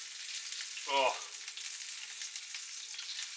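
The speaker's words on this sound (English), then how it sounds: "these sweet little shallots frying in that oil." Shallots frying in oil in a home kitchen during curry preparation, a steady close sizzle throughout with a brief spoken exclamation over it.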